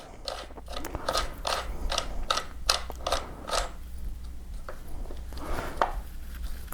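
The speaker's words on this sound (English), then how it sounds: "Now we take our muzzle device, thread it right onto the end here." Close metallic clicks and scraping as a compensator muzzle device is threaded by hand onto the end of a Glock pistol barrel, a quick irregular run of small ratcheting contacts over a low steady hum.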